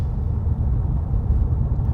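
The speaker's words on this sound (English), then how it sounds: "We are getting quite a good degree of road noise. That'll be because we've got very large alloy wheels on this particular car." Low, steady road rumble fills the cabin of a Mercedes-AMG E53 estate car riding on very large alloy wheels, a continuous dull roar with no voices over it.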